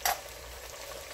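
Onion and garlic paste fry in a pan with a soft, continuous sizzle after a brief clatter at the start, fairly quiet and close.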